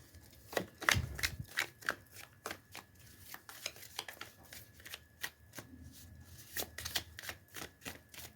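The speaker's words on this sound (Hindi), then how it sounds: "चलो कार्ड्स ही निकालते हैं" Tarot cards being shuffled by hand before a reading, a steady run of crisp riffling slaps and flicks close by, fairly quiet with no talk.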